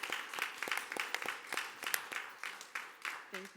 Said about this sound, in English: big applause for Miss Bryant here